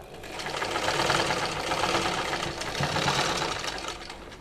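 A sewing machine runs steadily while stitching the side seam of a kameez, its fast, even motor whir and needle clatter continuous and close, with no voices.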